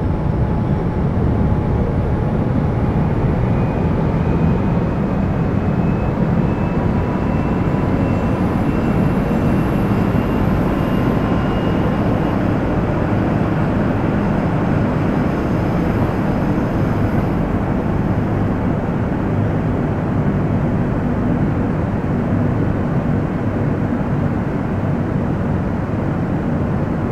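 Seoul Subway Line 1 train running between Cheongnyangni and Seoul Station, heard from inside the car as a steady, loud rumble of wheels and motors that continues without a break for the whole stretch, with no voices.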